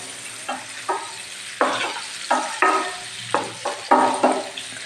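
Small cut pieces of paneer fry in a pan, a steady sizzle broken by repeated scraping stirs that come in regular bursts roughly every half second, close and fairly loud with no voices.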